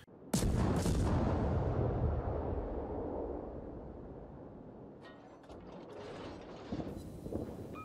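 A warship's guns fire a loud salvo in the video game World of Warships, a sharp booming blast that rolls into a long rumbling decay with mechanical clatter near the end.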